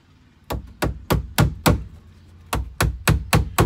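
Sharp hammer blows strike in a steady rhythm inside an RV, five in a row, a brief pause, then another quick run of blows, close and loud.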